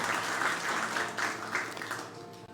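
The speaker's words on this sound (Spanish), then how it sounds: "un aplauso para nuestro Señor" A church congregation applauds during a sermon, sustained dense clapping at moderate volume that thins out toward the end.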